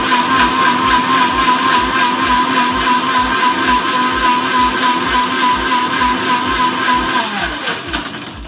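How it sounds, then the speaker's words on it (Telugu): A kitchen mixer blends soaked figs and nuts into a milkshake, its motor whining loudly and steadily with a rhythmic pulsing chop, then winding down in pitch as it switches off near the end. "సో దీన్ని ఇప్పుడు మిక్సీలో బ్లెండ్ చేసేద్దాము."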